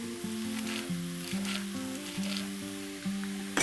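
Vegetables and thyme sizzle and fry in a pan, a soft, steady crackle beneath faint stirring with some tonal background sound.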